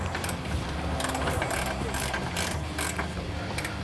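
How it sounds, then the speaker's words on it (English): A hand ratchet tightens the lower shock bolt on a C2/C3 Corvette rear suspension, giving a steady run of rapid metallic clicks close up that continues for the whole stretch. "we're going to go ahead and tighten this bottom bolt for the shock."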